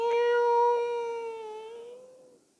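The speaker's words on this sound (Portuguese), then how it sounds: "um dia chegou no comércio dela um gatinho bonito, miando com pena, aquele miadinho do gatinho" Kitten meowing in a single long, plaintive, drawn-out cry that slowly fades away, close and clear against near silence.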